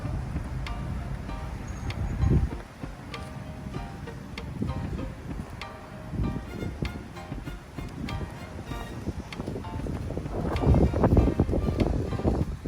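Strong outdoor wind buffets the microphone beside a white Honda Jazz with a CVT, giving rumbling gusts that swell and fade, loudest near the end.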